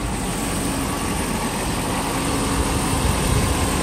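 A 1994 Mercedes SL500 idles steadily at close range, its engine a constant low rumble with no speech over it.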